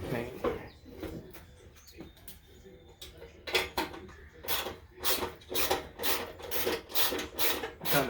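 Rasping strokes of sandpaper rubbing on deck wood before painting, irregular at first and then settling into a quick, steady back-and-forth rhythm up close.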